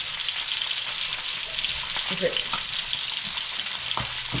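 Hash browns fry in an egg skillet with a strong continuous sizzle, close and steady, broken by a few light scrapes and taps.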